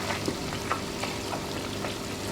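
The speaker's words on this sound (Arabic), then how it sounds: "نقلب برضو" Butter simmering down into homemade ghee gives a dense, continuous frying crackle close by, with light scraping from a stirring spoon running through it.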